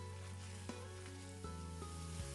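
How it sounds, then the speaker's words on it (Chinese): Shiitake mushrooms stir-fried in a wok with soybean paste give a steady, close sizzle, with a few sharp spatula scrapes and clicks breaking through the frying hiss. "再把香菇也加进来翻炒"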